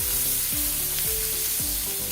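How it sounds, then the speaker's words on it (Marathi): Mustard seeds crackle and sizzle steadily in hot oil in a home kitchen pan with crushed garlic, a dense continuous frying hiss with rapid pops, close and even, while a low repeating hum runs underneath. "मोहरी तडतडायला लागली आहे"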